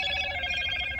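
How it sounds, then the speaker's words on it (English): A Motorola phone notification chime plays close by, a short bright tonal ring lasting about a second, steady and clear with no talk over it. "That's the Motorola notification if you have a Motorola phone."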